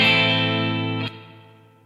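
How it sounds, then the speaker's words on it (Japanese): An electric guitar chord played through a budget Revol echo effect pedal rings out loudly, then fades into a decaying echo tail over about two seconds, with no talking. "じゃ続いてこちらのエコーいきましょうかね。"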